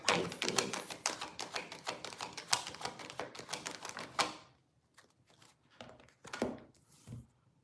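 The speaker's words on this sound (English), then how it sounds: "So I'm gonna cut the deck" A deck of tarot cards is cut and handled, giving a quick run of crisp, close clicking and tapping card sounds. These thin out into a few scattered soft taps and then near quiet.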